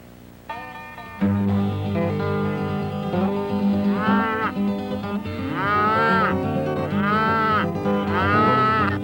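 Cattle moo loudly and repeatedly during a fall cattle drive near Neskonlith Lake, several long, drawn-out lowing calls overlapping from a herd close by, over a low steady background.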